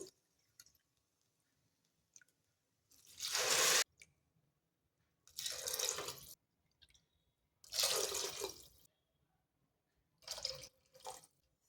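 Water pours in four separate bursts of a few seconds each, splashing and gurgling into a cooking pot for wheat dalia khichdi, with quiet pauses between.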